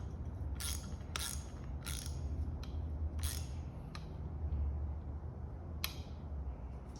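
A ratchet wrench clicks in short bursts, tightening the fork drain fittings on a Honda VTX 1300C during a fork seal rebuild, close but fairly quiet over a steady low background hum.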